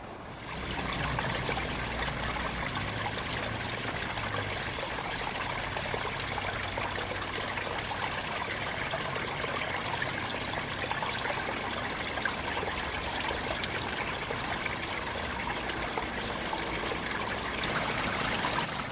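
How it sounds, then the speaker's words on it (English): Water flows over the rocks of a koi pond spillway waterfall in a continuous splashing trickle, heard close and steady throughout with no talking. "So that's the spillway, waterfall rocks."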